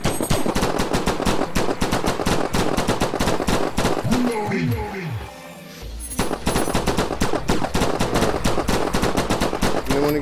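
Rapid automatic gunfire rattles in the VR shooter Dimension Hunter during a final boss fight, with loud fast bursts broken by a short pause. Descending synthetic tones and a low thump fill the gap before the firing resumes.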